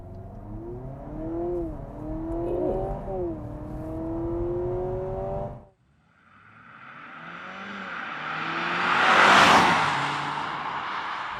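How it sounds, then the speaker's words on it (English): A refreshed 2025 Honda Civic Hybrid Hatchback accelerates hard from inside the cabin, its engine tone rising in pitch across two gears, a brief dip at the shift, then surging into loud road and wind roar. "we're going for a drive. The refreshed 2025 Honda Civic Hatchback."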